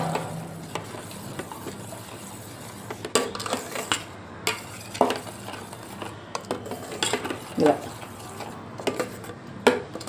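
Curd is mixed with dry ginger powder in a bowl, with a spoon scraping and clinking against the sides in irregular strokes and a few louder knocks over a faint background hum.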